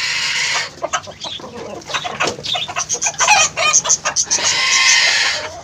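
Kairali chickens on a terrace rooftop flock cluck and chatter in a dense, overlapping burst of short calls, fairly close, with a steady broadband background hiss at the start and end and no talking.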